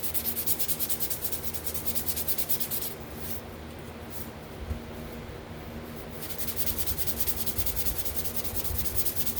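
500 grit sandpaper rubs back and forth across a car fender in quick steady strokes, a close scratchy rasp that pauses briefly midway before resuming.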